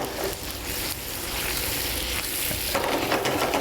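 Shrimp sizzle in a hot pan, a continuous crackling fry that stays steady and close, swelling slightly louder toward the end as the pieces are stirred.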